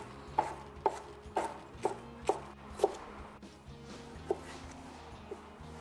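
A knife coarsely chops soup vegetables on a cutting board in a run of roughly eight sharp, evenly spaced strokes over faint background hum, with no talking.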